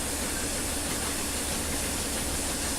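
Flying Scotsman steam locomotive blowing off steam while climbing Shap, a loud, steady, unbroken hiss of escaping steam with a low rumble of the train underneath, heard close and without any talking.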